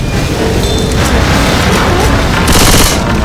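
Dense, loud gunfire rattles continuously in the zombie shooter video game Left 4 Dead 2, with rapid automatic bursts and booming shots blending into a constant barrage and a sharper burst near the end.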